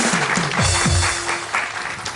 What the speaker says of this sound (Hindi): सनम के लिए बहुत सारी तालियां।